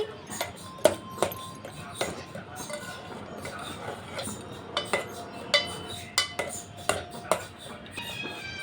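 Bottle gourd kheer with dry fruits being stirred in a pot, a spoon clinking repeatedly against the metal sides in an irregular rhythm, near and fairly clear over a soft background.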